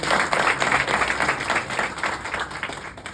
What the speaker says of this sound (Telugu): Big round of applause.